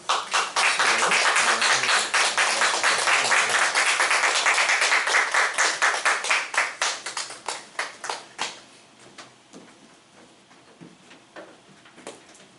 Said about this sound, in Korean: 우리 박수로 우리 한번 환영하도록 하겠습니다.